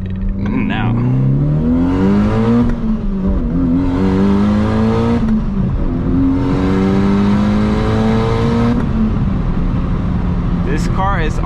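A red 2003 JDM Mitsubishi Evo 8 accelerating hard. Its engine note climbs through several gear pulls, each rising pitch broken by short dips at the shifts. The sound is loud and close, with occasional voices from inside the car.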